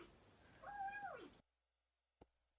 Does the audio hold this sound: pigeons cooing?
no